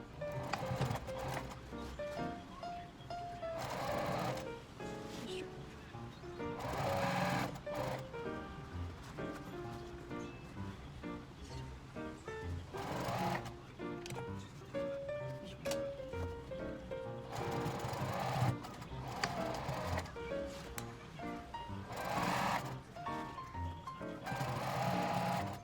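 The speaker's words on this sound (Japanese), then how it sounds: "で、折ったらこのロックミシンジグザグミシンの上を一周ぐるっと縫っていきます。" A zigzag sewing machine stitches around the folded edge of a smartphone pouch with leather cord, its motor running in repeated bursts of rapid needle clatter separated by short pauses, with soft background music.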